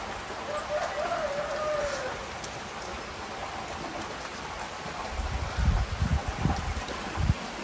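Steady rain falling in the hills with strong wind, a constant wash of hiss throughout, joined near the end by low bumps and thuds close by.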